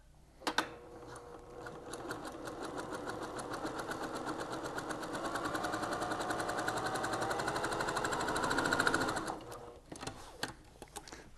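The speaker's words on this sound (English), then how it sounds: "we're going to go to the machine and we're going to stitch from the top down" A sewing machine stitches two pieces of fabric for a wrap skirt in one continuous run of rapid needle chatter, rising slightly in speed before stopping, with a few clicks at the start and end.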